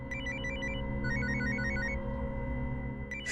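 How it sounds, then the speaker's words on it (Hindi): A phone rings with an incoming call, a steady electronic ringtone of repeating high melodic tones over a low background hum, close and continuous with no talking. "सब बबीता का ही फोन आ रहा है।"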